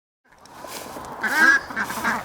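Ducks on a compost farm quack close and loud, a rising chorus of harsh nasal calls overlapping in a short burst after a brief silence.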